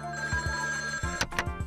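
A telephone rings with a steady electronic tone, followed by several sharp bursts of its ringing near the end, fairly quiet and alone.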